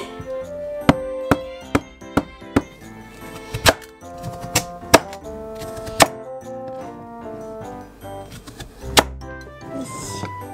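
A kitchen knife chops through a kabocha pumpkin for a herring and pumpkin pie, giving about a dozen sharp, irregular thunks close to the microphone over soft background music.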